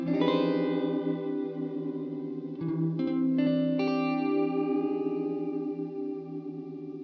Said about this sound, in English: I like the sound of slower flanger sounds